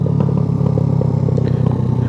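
A Suzuki GN125 motorcycle exhaust burbles and crackles on overrun in a rapid, uneven gurgle. It is loud and close under steady engine and wind noise, with no talk.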